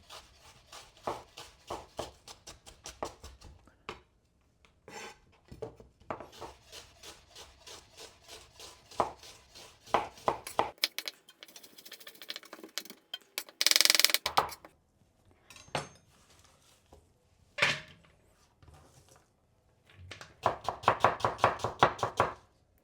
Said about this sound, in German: jetzt die geschälten Zwiebeln halbieren und in gleichmäßige, feine Streifen schneiden